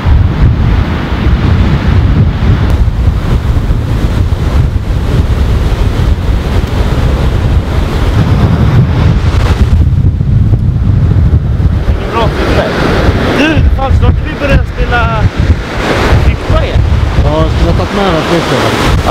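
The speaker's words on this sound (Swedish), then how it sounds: "Lite vind." Strong wind buffets the microphone beside the ocean on a clear day in Portugal, with surf rumbling underneath and faint voices partly buried in the roar.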